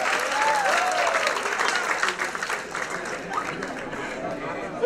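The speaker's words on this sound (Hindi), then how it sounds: "एक बार जोरदार तालियां हो जाए।" An audience at the Rajasthan Film Festival 2018 award show breaks into loud applause that thins out over about five seconds, with voices and crowd chatter mixed into the clapping.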